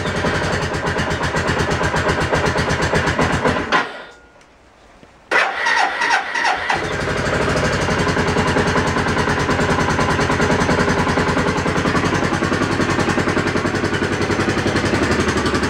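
A motorcycle starts from cold on choke and settles into a loud, steady, close idle. A short stall and gap in the running are followed by a restart and an even, throbbing idle.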